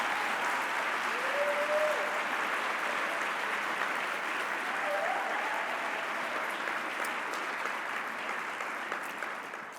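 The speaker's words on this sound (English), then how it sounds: "Let's give them all a round of applause." A conference audience gives a round of applause at a State of the Organization session, with steady, even clapping from a sizeable crowd that continues throughout and fades slightly toward the end.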